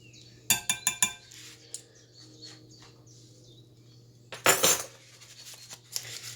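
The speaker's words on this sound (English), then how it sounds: "we're just going to continue stirring that over medium heat" A spoon knocks against a pot while stirring cranberry sauce with pectin over medium heat: a quick run of metallic clinks, a quiet pause, then another cluster of scraping taps, all close and fairly soft.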